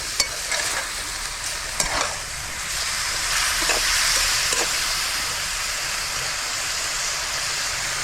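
Chicken fries in a pot outdoors with a loud continuous sizzle and hiss, broken by occasional scraping clatters as it is stirred.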